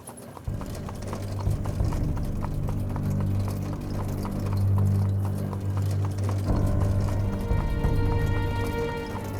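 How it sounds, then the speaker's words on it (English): Hooves of a horse pulling a taxi carriage in Cuba clip-clop in a quick, steady rhythm, close and clear over the low rumble of rolling wheels, continuing throughout. "My horse-drawn taxi carriage feels really appropriate, taking me on a journey back to the 19th century."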